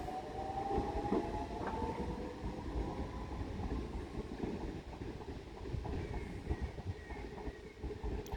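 A train pulls away from Grove Park station with a low rolling rumble and a faint wheel squeal early on; the sound stays moderate and steady, heard from the platform at a middling distance.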